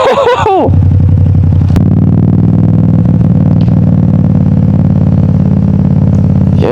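A Yamaha MT-07 motorcycle being ridden, its engine giving a steady loud mid-pitched drone with one sharp knock early on, close to the rider throughout.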